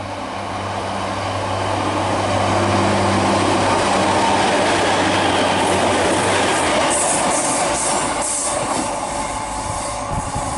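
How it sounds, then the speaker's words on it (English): A Great Western Railway Class 153 diesel train, two units coupled, passes close by at Devonport on the Plymouth to Penzance line, a loud sustained rumble of wheels and engine that swells and then eases. "passing through now is the Great Western Railway service from Plymouth to Penzance"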